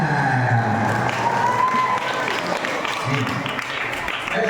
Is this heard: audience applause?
yes